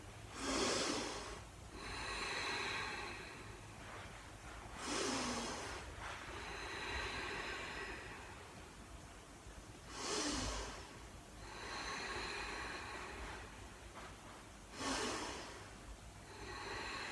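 Children in a kids' yoga class in California take slow, deep breaths together, each broad airy inhale swelling and fading at a steady interval of roughly five seconds, four breaths in all over a faint background hiss.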